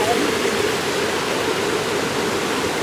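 A waterfall on the Rio Grande river roars in a loud, constant rush of falling water that fills the whole stretch without pause or change in level.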